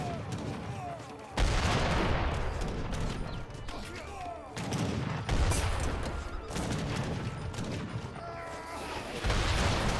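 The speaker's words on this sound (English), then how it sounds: "Gets a couple of good shots from the falconets, take out a couple of them." Falconet cannon fire and battle clamor in an Age of Empires 3 game, with repeated loud booms and crashes over continuous skirmish noise while a commentator talks throughout.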